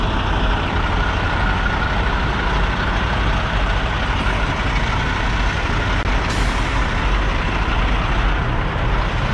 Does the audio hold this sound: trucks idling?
yes